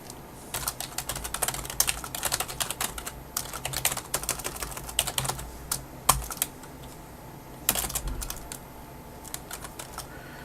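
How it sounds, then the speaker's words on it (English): Rapid bursts of typing on a computer keyboard, clicky keystrokes in quick irregular runs separated by brief pauses, close and fairly quiet. "Now, we just start typing tags."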